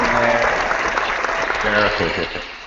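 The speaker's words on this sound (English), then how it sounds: "let's how about another warm round of applause for Sheri." Warm audience applause for a guest at an HR happy hour event, a full burst of clapping that fades toward the end as a voice starts speaking.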